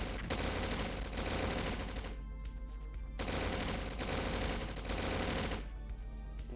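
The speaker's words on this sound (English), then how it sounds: "they're shooting over here" Continuous rapid gunfire from the Red Alert strategy game rattles loudly in dense machine-gun bursts, broken by two short lulls.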